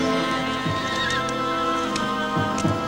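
A desert horse whinnies with a shrill, wavering neigh over steady background noise, with a few thuds that could be hooves.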